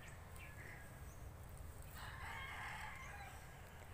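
A rooster crows faintly in the distance over low outdoor rumble, with other chickens barely audible.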